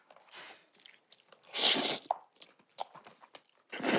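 Crunchy food is chewed close to the mic, with irregular crisp bites and a louder crunching burst in the middle and at the end, with no talking.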